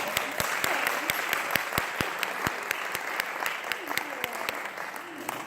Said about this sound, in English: Let's clap for Chrissy's presentation